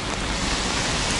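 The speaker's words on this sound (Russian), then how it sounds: "И вправду, дождь пошел." Rain falls steadily in Adler, a dense, even hiss of drops that fills the brief moment at close range with no voices.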